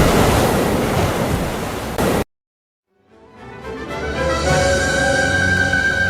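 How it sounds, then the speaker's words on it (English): Storm waves crash over a ship's deck during a typhoon, a loud roaring wash that cuts out abruptly and then builds back as a rushing, surging surf of water and wind. "the waves began to hit the deck again"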